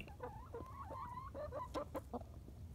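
Chickens cluck and chatter nearby, a run of short, irregular calls over a low background rumble.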